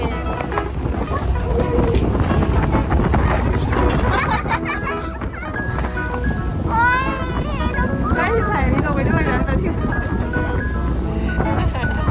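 Strong wind buffets the microphone aboard a large ferry crossing the sea to Koh Samet, a loud gusting rumble mixed with engine and water noise while people talk nearby.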